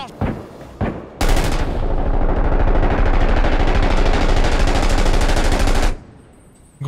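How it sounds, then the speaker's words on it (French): A grenade thrown inside during a realistic war video game, followed by a sustained, loud, rapid burst of close automatic gunfire lasting several seconds after a couple of single shots. "Grenade qui part dedans."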